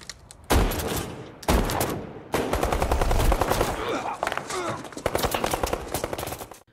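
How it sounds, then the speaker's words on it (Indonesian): Loud bursts of gunfire in a film scene, first two heavy shots, then sustained rapid automatic fire crackling close by, with a faint voice underneath at times. "tiba-tiba dari arah belakang Salif menembaki mereka dengan sangat brutal."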